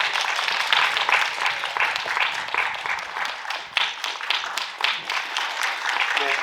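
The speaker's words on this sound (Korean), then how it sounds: "여러분 박수로 맞이해 주십시오" Audience at a film press conference applauding the director and cast as they take the stage, dense sustained clapping with individual claps standing out, close and lively, with faint voices mixed in.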